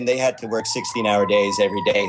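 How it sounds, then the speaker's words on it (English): An emergency vehicle siren wails past on a downtown Los Angeles street, a steady rising-and-falling tone running the whole time beneath continuous close speech. "Oh, I apologize for the siren."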